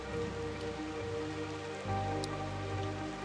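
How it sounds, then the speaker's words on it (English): Steady rain in a video game, a continuous hiss of drops on surfaces with a low constant hum underneath, moderately loud and uninterrupted, no voices present. "Oh, it's raining!"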